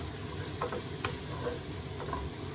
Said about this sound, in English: give that a quick little stir